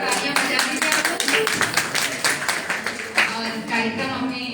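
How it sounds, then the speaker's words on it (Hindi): An audience claps at a Hindi book launch ceremony, a dense burst of many hands applauding together, fairly close and loud, fading slightly toward the end. "सर के लिए एक बार जोरदार तालियां बजा दीजिए आप लोग।"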